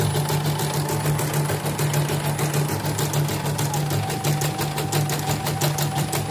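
A repaired portable embroidery machine runs steadily nearby, its fast mechanical stitching rattle holding an even pace over a constant motor hum.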